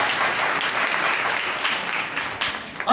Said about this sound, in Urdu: زوردار تالیاں یسوع